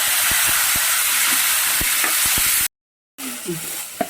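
Peeled, chopped tomatoes fry with chilli in a pan, giving a steady broadband sizzle with scattered clicks of stirring, broken by a brief silent gap before the frying resumes.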